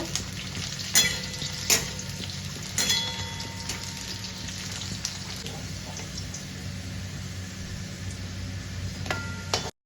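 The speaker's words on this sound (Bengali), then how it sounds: "আলুগুলো ভাজা হয়ে এসছে, এরপর তুলে নেব।" Potato pieces frying in hot oil give a steady, even sizzle with occasional sharp pops and clicks of a utensil, close-up and continuous for several seconds, with no voices.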